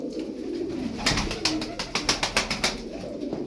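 Tumbler pigeons cooing close by, a male chasing a female, a series of soft throaty coos with wing flaps and fluttering noise in the middle.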